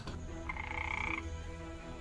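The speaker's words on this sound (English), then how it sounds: "Please, step away from the frog, Vulkan." A single croaking frog in an animated show, one drawn-out nasal croak in the middle of a quiet moment, close and clear with no one talking.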